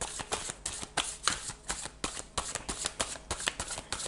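Dixit game cards riffled and shuffled in steady rapid bursts, crisp papery flutters repeating roughly every quarter second, close and loud with no voice over them.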